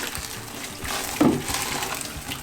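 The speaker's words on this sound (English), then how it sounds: "all I do is just pour some boiling water on this cheesecloth" Boiling water pours and splashes softly onto cheesecloth, a steady trickling gush that swells briefly midway, close by with no talking.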